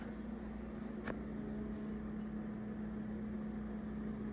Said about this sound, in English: the majority of that sound is my fridge